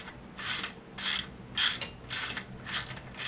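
A half-inch drive ratchet works a lock nut loose on the slip-on exhaust of a 2008 Harley-Davidson Sportster 883C, close and alone: six evenly spaced rasping bursts of pawl clicks.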